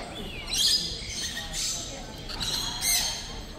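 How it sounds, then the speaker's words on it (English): Amazon parrots, ringnecks, conures and budgies at a bird expo squawk in several loud, harsh bursts, close by, over a busy hall murmur. "Amazon's in there, ringnecks, conures, budgies"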